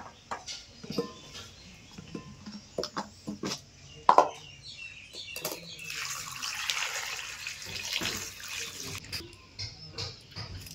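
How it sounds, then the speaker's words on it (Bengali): Raw mangoes being rinsed in water in a home kitchen, with soft splashing and sloshing that swells into a steadier run of water, plus scattered clinks and faint rooster clucks in the background. "আমি আমগুলো একবার ভালো করে একবার ধুয়ে নিয়েছি, আমি আর একবার ধুয়ে নেব।"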